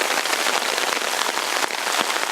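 Very hard rain pours down steadily, a dense hiss of drops on surfaces with water running into a roadside ditch beneath it, loud and continuous throughout.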